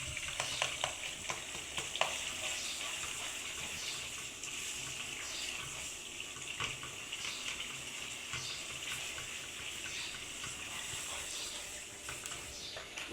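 Onions sizzle in hot oil in a pan at a steady, fairly faint crackle with fine popping textures, with no talking over them.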